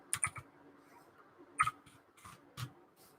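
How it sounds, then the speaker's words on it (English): Fingers typing on a computer keyboard: a few short bursts of keystrokes with pauses between them, close and fairly quiet, with no talking. "let me type it out for you"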